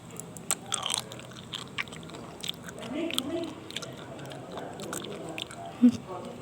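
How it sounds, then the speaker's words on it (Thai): Someone chews sea grapes seaweed close to the microphone, giving soft, wet crunching bites in irregular bursts with brief vocal sounds between them. "วันนี้เราจะมากินสาหร่ายพวงองุ่นกันนะครับ"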